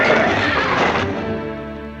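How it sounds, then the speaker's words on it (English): A cartoon horse whinnies loudly in an animated 1985 Robin Hood film, a dense, rough neigh that sustains for about a second before easing into a fading, wavering tail. "My horse slipped in the mud."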